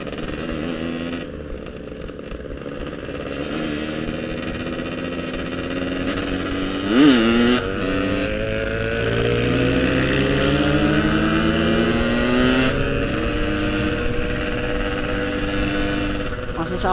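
A Yamaha RX King two-stroke motorcycle engine drones while riding, a raspy, buzzing exhaust note that holds steady with a brief rev spike and gradual pitch shifts, loud and close over wind noise.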